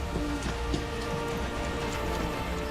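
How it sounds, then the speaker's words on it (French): Heavy, steady rain pours down outdoors during an ambulance crew's patient transfer, a dense wash of drops pattering on surfaces with a few louder splashes, no speech. "est confiée à Antoine et Maëva sous une pluie battante."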